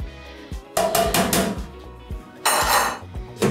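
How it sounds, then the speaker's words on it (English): Metal utensil clatters and scrapes against a pot of boiling pasta in several bursts, with short pauses between the stirring strokes. "Give it a good stir."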